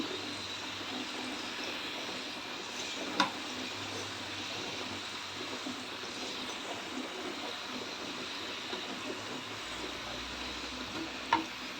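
Cumin seeds fry in a pan with a soft, steady sizzle and crackle, close and quiet, broken by a couple of small sharp ticks.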